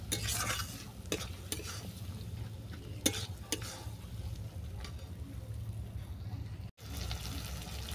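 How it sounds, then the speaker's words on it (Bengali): Chili powder and spices are sautéed in a pan for a chicken curry, soft frying sizzle under irregular spatula scrapes and taps, fairly quiet and close, with a brief dropout near the end. "এটা ভালো করে কষিয়ে নেব।"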